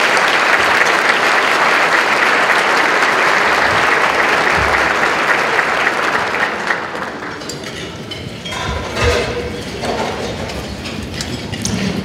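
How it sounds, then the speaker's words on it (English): A large audience applauds city public servants at a Portsmouth, Virginia State of the City event, a loud, dense roar of clapping that thins and softens partway through into scattered claps with some crowd murmur. "Let's give them a big round of applause."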